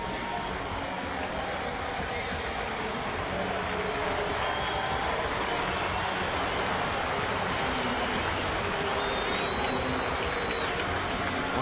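Dense stadium crowd roaring and applauding steadily as Yankees shortstop Derek Jeter comes to the plate at a 2009 Rays game, a continuous broadband wash of cheers with scattered whistles, loud and sustained throughout.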